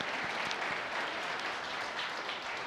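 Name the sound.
audience applause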